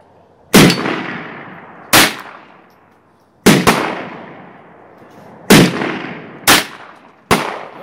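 Ruger MKIII 22/45 pistol fired at a shooting range: seven sharp, loud reports spaced irregularly, including a quick double, each followed by a decaying echo.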